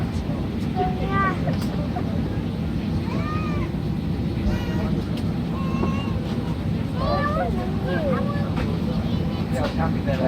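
Steady broadband cabin hum fills an airliner waiting before takeoff, a constant low rumble of engines and air circulation, with people talking over it throughout.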